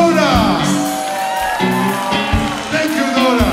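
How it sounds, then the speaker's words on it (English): Concert crowd at a show shouting, whooping and cheering for Nora, a loud, dense roar of voices sustained throughout with scattered yells rising above it. "Applause for Nora!"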